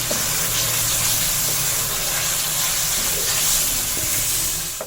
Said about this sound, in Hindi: 1 चम्मच अदरक और 1 चम्मच लहसुन का पेस्ट ये डाल देंगे। इसको भी थोड़ा सा भून लेंगे।